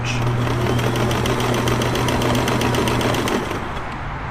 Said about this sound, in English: we're only getting 1 stitch out of this machine.